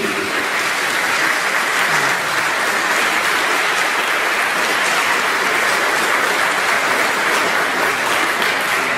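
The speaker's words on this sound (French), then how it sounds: "Puis on pourrait les applaudir." A church congregation applauding volunteers during a Sunday homily, a steady, loud, sustained wash of many hands clapping together without pause.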